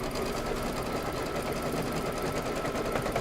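An embroidery machine stitches out the batting placement for a quilted table topper, giving a fast, steady, close mechanical whir that runs without a break and with no voices.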